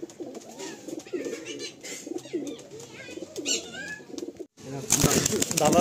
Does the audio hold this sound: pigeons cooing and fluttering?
yes